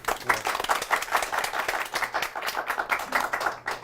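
Audience clapping at a book forum author event, a crisp, lively round of many hands with distinct individual claps, steady throughout and fairly close.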